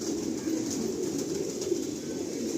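A roughly ten-year-old pigeon at the Ranihati loft gives a continuous low, throaty cooing, close by and steady, with no speech over it.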